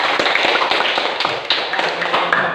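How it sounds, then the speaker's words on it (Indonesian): Students in a teacher-training classroom clap for a group after its presentation, a brief burst of close, sharp handclaps with a few thumps mixed in. "Ya, tepuk tangan."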